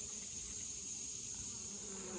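Steady buzzing of honey bees crowding over an open hive colony, a continuous dense hum with no talking.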